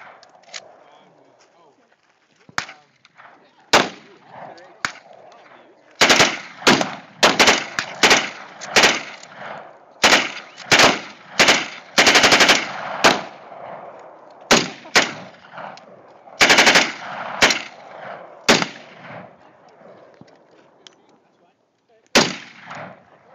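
Gunshots ring out outdoors, over a dozen sharp loud cracks fired in irregular bursts, some in quick succession, with quieter pauses between and people talking in the background.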